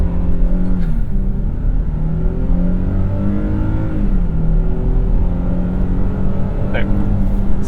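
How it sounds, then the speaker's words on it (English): 2022 Nissan Frontier pickup accelerating hard from a standing launch with traction control off, its engine roaring loudly and steadily as revs climb through gear changes, heard from inside the cab. "Now maybe let's try that without me spinning the tires for 3 seconds"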